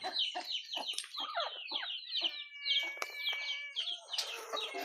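A flock of chickens clucks and squawks busily, a dense overlapping chatter of calls close by without any speech.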